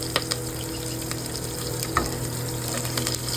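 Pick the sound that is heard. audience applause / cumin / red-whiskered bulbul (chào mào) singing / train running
cumin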